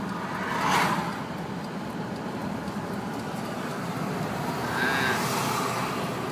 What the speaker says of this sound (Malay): kereta meremotong kita kerana sudah tidak sabar